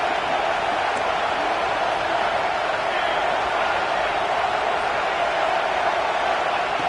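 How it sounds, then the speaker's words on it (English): A steady roar from the stadium crowd in the NCAA 25 college football video game, a dense continuous wash of cheering noise that holds at an even loud level throughout with no voices standing out. "It's early, but this crowd is fired up. Listen to this noise here."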